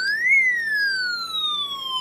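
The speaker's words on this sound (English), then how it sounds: "we get that siren sound" A loud electronic siren tone from an alarm IC on a Snap Circuits kit speaker sweeps up sharply, then glides slowly downward in a single pure, whistling wail.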